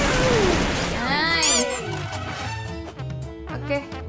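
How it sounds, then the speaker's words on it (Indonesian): Gunfire in the battle-royale game Free Fire, with bursts of shots crackling through a busy game soundscape alongside other effects and voices, fairly loud and continuous throughout. "yang di sebelah sana lagi tembak-tembakan"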